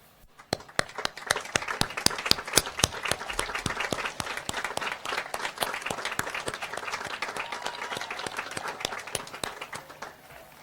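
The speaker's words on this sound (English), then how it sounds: "So I'm going to ask you again to stand up for a round of applause" A standing audience applauds at a high school commencement in Ellenville. Many sharp individual claps merge into a sustained, moderately loud round lasting about ten seconds, with no speech over it.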